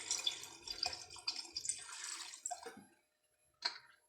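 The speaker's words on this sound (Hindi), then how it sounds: "इसमें हमने थोड़ा सा पानी ऐड कर देना है।" Water is poured into a pot of cooking tinday gosht, a splashing trickle in short bursts that stops, then a final small splash after a pause, heard alone at close range.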